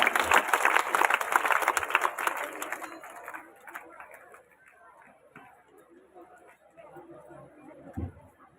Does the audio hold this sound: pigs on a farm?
no